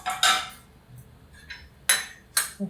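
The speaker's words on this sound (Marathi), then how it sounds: "झाकण काढते तवा मी आता तापत ठेवले आंबोळ करायला" Metal clanks and scrapes as a lid is lifted off a pan and a griddle is set to heat for amboli, several sharp clattering hits spread across a quiet background.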